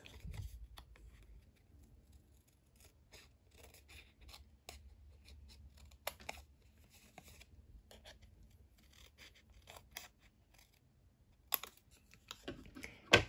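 Scissors snip lines into card stock in short, quiet bursts of crisp cutting and paper rustle, close by in an otherwise hushed room with no talking.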